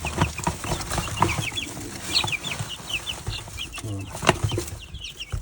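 Young chicks peeping and clucking inside a new coop, a busy chorus of high, rapid chirps close by, mixed with rustling and occasional bumps.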